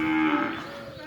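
A cow at a cow shelter where several cows have recently calved gives one close, loud moo lasting about a second, with no other voices.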